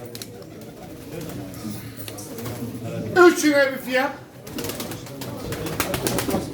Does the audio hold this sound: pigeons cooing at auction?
yes